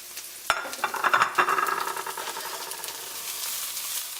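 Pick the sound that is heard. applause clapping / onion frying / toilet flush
onion frying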